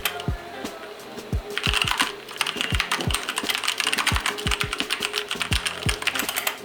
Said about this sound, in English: Here we had done a sound test